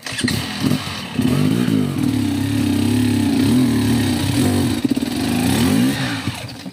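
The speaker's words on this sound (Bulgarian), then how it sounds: "Това е мощен мотор." A powerful KTM motorcycle engine revs hard and close, with a loud raspy roar that rises and falls through several throttle blips, at an outdoor off-road motorcycle event.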